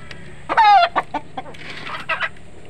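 Pet chickens cluck at feeding time in a few short, close bursts with quiet gaps between them.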